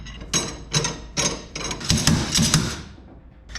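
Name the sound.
slide hammer pulling a VW axle out of the bearing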